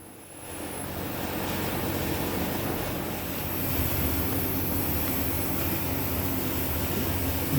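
A Honda car's air conditioning blows hard through a rigged brass fitting and hose, a steady broad airy rush that rises after a soft start and holds evenly, with no speech.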